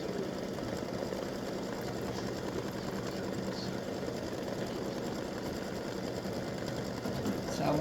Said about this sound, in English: it'll come back and satin stitch the letters inside that cutout